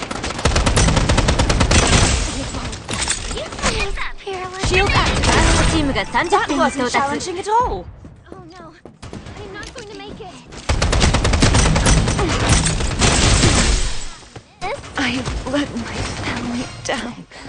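Automatic gunfire from the anime-style shooter Strinova rattles in dense, loud bursts separated by short pauses, with a voice talking over much of the shooting.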